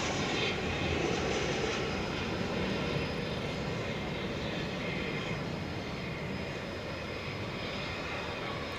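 A United airliner inbound from Denver comes in to land at Dallas Fort Worth airport at night, its engines a steady, moderately distant roar.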